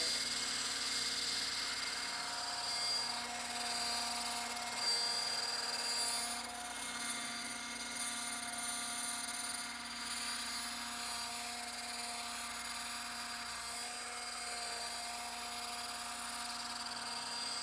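Rotor and motor of a Roban EC130 800-size scale RC helicopter give a steady, droning whine with a constant hum throughout, with no talk.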